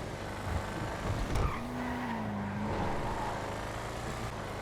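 A Buffalo STX muscle car accelerates in the GTA 5 video game, with a steady engine roar and tire squeal rising briefly, heard up close and without talk.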